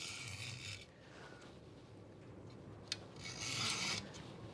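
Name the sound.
junior hacksaw cutting ABS car interior plastic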